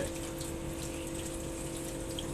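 Water runs steadily from a tap while red ant eggs are rinsed clean, a constant close gushing wash with no pauses or talk.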